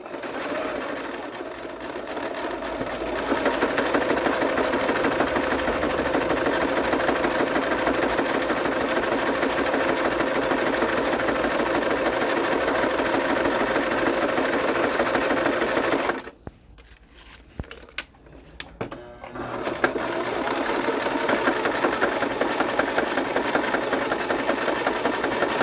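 Sewing machine running at a steady, rapid mechanical clatter for a long stretch, pausing briefly with a few isolated taps before resuming its fast continuous stitching rhythm.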